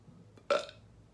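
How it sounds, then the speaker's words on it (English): A single short, forceful burp from a person, over in about a quarter second and standing alone against a quiet background. "Okay, that wasn't like a big burp."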